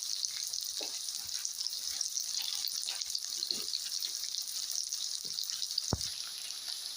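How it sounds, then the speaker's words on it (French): Onions, lightly golden, fry in a pan for a mushroom and turmeric curry, a faint steady crackling sizzle with a few small clicks, alone without talk. "ça fait 2 minutes et demie que les oignons ils sont légèrement dorés"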